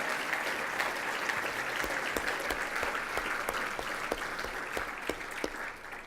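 At an NBAA business excellence awards event, an audience applauds the nominees with sustained, evenly spread clapping, a few sharper individual claps standing out above the steady crowd patter.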